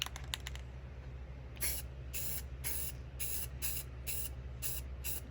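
An aerosol can of primer sprays bare metal spots on a truck's side step: a few quick short bursts, then a string of roughly regular half-second hissing blasts, close and clear over a low background hum.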